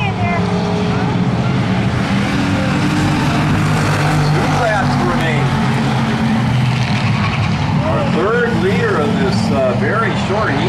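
Race cars roar around an oval track during a short eight-lap hobby-class heat race, engines droning loudly and continuously with rising and falling pitch as cars pass, under a commentator's steady talk.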